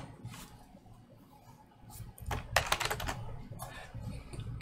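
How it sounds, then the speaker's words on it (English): Typing on a computer keyboard, bursts of close, quick clicking keystrokes that grow louder in the middle and continue in short runs, with no talk. "type every one of these into the search bar where all these folders are"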